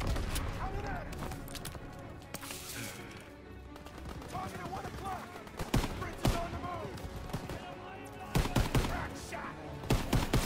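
Gunfire in the Call of Duty WW2 campaign mission Operation Cobra: dense, loud bursts of shots and rapid automatic fire crackle throughout, with sharp single cracks standing out and game voices faintly beneath.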